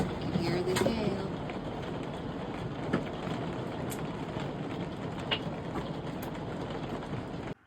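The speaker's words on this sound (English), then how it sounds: "You can hear the hail." Hail falls steadily during a big June storm at Monocle Lake, Canada, making a continuous dense patter with a few sharper impacts along the way. It cuts off suddenly at the end.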